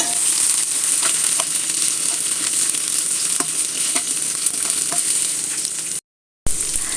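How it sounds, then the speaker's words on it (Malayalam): Chopped capsicum sautéing in a pan, a steady close sizzle and frying hiss running throughout with occasional stirring scrapes, cutting out briefly near the end before resuming. "അതിലേക്ക് നമ്മൾ അരിഞ്ഞു വെച്ച കാപ്സിക്കം ഇട്ട് കൊടുക്കാം ഒരു രണ്ട് മിനിറ്റ് ഇതൊന്ന് നല്ലോണം ഒന്ന് ഒന്ന് സോഫ്റ്റാക്കി എടുക്കാം"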